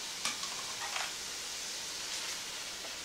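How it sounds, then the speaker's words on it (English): Quiet, soft scraping and stirring as all-purpose flour is whisked into a sizzling clam chowder base in a pot, with a few brief clinks over a faint hiss. "Next, you whisk in 3 tablespoons of all-purpose flour."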